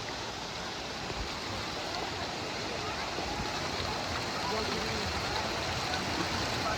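Water pours and splashes continuously from a big flower feature at a water park, a broad steady rush that swells slightly toward the end.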